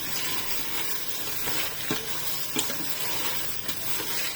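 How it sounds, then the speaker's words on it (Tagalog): Large tiger shrimp sauté in a pan, giving a continuous soft sizzle broken by occasional sharp pops and clicks, close up and steady. "Igigisa lang natin siya hanggang sa mamula."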